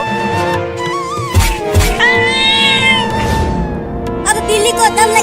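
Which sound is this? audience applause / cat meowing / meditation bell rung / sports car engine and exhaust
cat meowing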